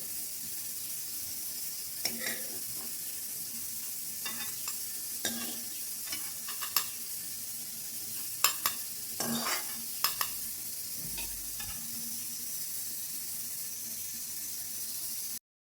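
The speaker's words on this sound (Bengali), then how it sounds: "পেঁয়াজের বেরেস্তা হয়ে গেছে, তো একে আর বেশি ভাজবো না, নাহলে পেঁয়াজ তেতো হয়ে যাবে।" Onions frying into crispy birista for mutton haleem, a steady soft sizzle of oil with scattered scrapes and taps of a spatula stirring the pan, faint and close.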